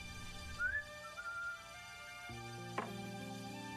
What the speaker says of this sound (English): He turns off his light by whistling